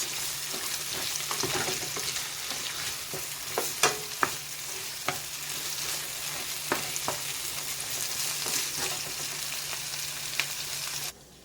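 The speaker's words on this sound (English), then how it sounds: "I'm gonna saute this for a bit." Corn pork sautéing in a pan for a Jamaican corn pork and ackee dish, a continuous soft sizzle broken by a few sharp scrapes and clinks of stirring, heard alone without talk.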